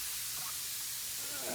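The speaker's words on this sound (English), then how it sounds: "the hissing noise is the spray hose just watering the trenches" Steady broad hiss from a spray hose watering allotment trenches in May, continuous and fairly faint, with no other sounds standing out.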